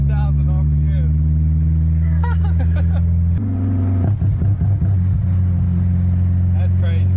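A Honda S2000 with aftermarket headers idles loud and steady, then its engine revs in stuttering bursts that will not climb past 3,000 RPM, apparently in limp mode; people talk over it at close range.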